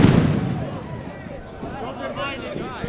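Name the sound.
flashbang grenade going off at a street protest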